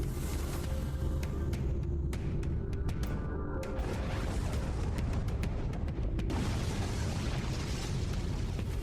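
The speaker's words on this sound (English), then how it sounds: "Yeah, they really like explosions." Dense, continuous booming and rumbling explosions blended with loud music, sharp bursts scattered throughout at high volume.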